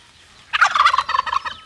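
A pet turkey lets out a single loud, rapid gobble, a rattling burst of about a second close to the listener after a quiet start.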